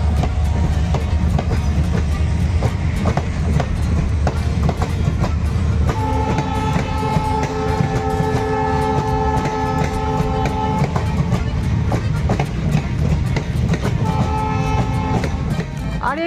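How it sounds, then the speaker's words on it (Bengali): A train rolls past on the railway, with a loud continuous rumble and rhythmic clatter of wheels on rails, and a sustained horn sounding in the middle and again near the end, heard close by. "দেখো ট্রেনটা যাচ্ছে।"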